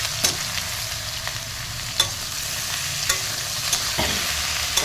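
Washed potatoes sizzle steadily in hot oil, with a soft continuous hiss broken by occasional light clicks of a utensil stirring the pan.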